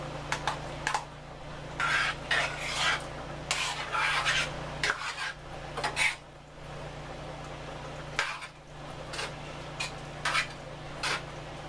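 Fresh cut tomatoes go into a pan, giving scraping, rubbing and clinking utensil sounds in irregular bursts, close by, with quieter gaps between.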